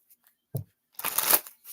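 Tarot cards shuffled by hand: a brief tap, then one quick riffling burst of card edges, close and clear, with no talking.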